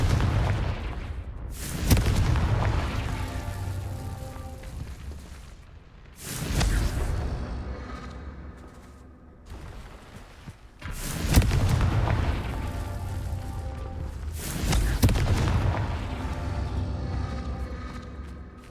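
Four booming blasts from the Confringo fire spell in Hogwarts Legacy, each a loud, broad burst that rolls off into a rumbling tail, spaced several seconds apart with quieter ambience between.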